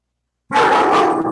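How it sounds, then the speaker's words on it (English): A dog in an office lets out a sudden close, loud vocal sound that starts abruptly after silence and holds for under a second, whiny and rough. "I brought my dog to work today."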